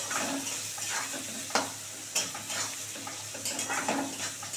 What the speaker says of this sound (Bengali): পেঁয়াজটা একটু লাল করে ভাজা হয়ে যাক